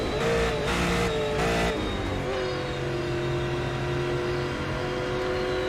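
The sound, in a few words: super late model race car brakes squealing, iRacing video game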